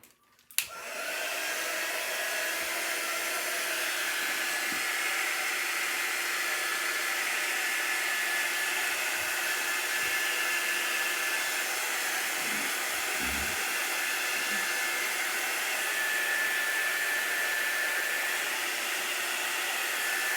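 A hair dryer blows steadily over a wet Chalk Couture double-sided surface, a loud, continuous whooshing hiss after a brief click as it switches on, running unbroken for about twenty seconds.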